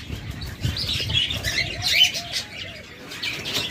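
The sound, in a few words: budgerigars (rainbow budgies) chirping in cage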